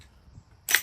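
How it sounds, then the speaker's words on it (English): A single loud, sharp .458 SOCOM rifle gunshot cracks out at an outdoor range near the end, after a stretch of quiet low rumble. "We're going to try 3 shots here"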